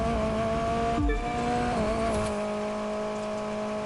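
A car engine in The Crew 2 racing game drones at a steady, loud pitch, dipping briefly before settling into a constant hum with a faint squeal, and no talk over it.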